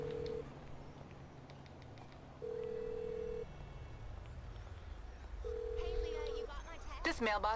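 A mobile phone in the video game GTA 5 is dialed and rings, giving three steady, evenly spaced ringback tones over a low game ambience, with a brief burst of voice at the very end.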